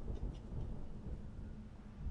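Thunder rumbles low and distant through a rainy stormscape in The Evil Within, a faint, rolling growl with a soft rain wash beneath it.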